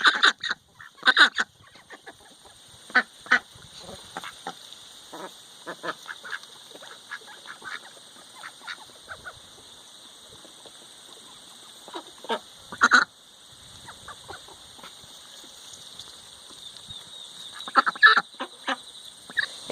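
Ducks quacking in a backyard flock with a mallard drake among them, scattered short nasal calls at irregular intervals, some close and loud, over a faint steady hiss of background insects or machinery.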